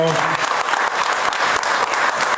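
Dense, loud audience applause at a televised cultural event, with a voice briefly speaking over the first moment before the clapping carries on alone.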